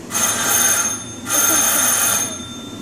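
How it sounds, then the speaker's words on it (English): An old-fashioned telephone bell rings in two bursts of rapid metallic trilling with a brief gap between them, clear and fairly close, with no one speaking. "Telephones used to sound this before they came out with cell phones and ringtones."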